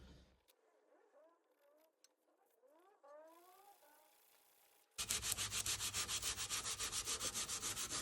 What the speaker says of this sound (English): after sanding this bottom bit to about 80 grit